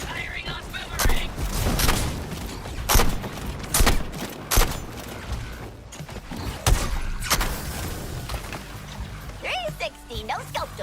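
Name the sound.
gunfire in a Justice League video game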